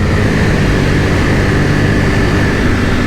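A 2021 Ducati Panigale V4S with standard exhaust cans drones loudly and steadily, a dense continuous engine roar with heavy wind rush, as if heard while riding.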